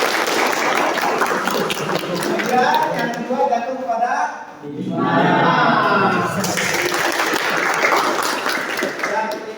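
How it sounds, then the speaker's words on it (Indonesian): Classroom applause for the top-ranked student in an informatics lesson, a dense burst of many hands clapping that swells around the middle while a teacher keeps speaking over it. "Tepuk tangan dulu untuk hikam"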